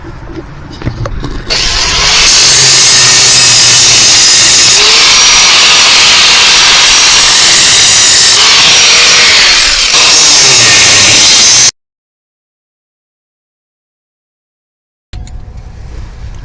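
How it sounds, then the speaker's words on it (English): An angle grinder cuts through rusty step-up bars on a truck, a loud sustained high-pitched whine and grind for about ten seconds, cutting out abruptly, then quiet background resumes after a gap. "there's now a grinder blade part of your truck, Esau."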